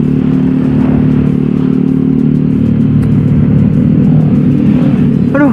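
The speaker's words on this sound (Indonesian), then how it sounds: "ini knalpot bener adem loh" Steady low rumble of a motorcycle exhaust idling and running close by, loud and continuous with a slight rise near the end.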